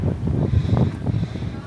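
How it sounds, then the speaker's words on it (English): Low, blustery rumble of wind buffeting the microphone outdoors on a lakefront, steady and loud for a moment with no clear voices. "I definitely apologize for the wind out here."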